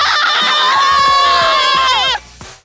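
A large crowd of Atlético Mineiro fans shouts and cheers loudly and continuously before the roar cuts off sharply near the end.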